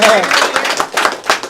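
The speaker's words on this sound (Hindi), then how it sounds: "राघव सर के लिए एक बार जोरदार ताली" Audience at a live network-marketing meeting in India gives a round of clapping, bursts of hand claps rising and falling over a second and a half, mixed with voices and crowd noise.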